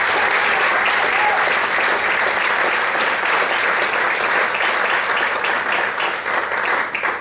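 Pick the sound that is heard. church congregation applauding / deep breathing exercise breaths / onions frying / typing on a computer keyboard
church congregation applauding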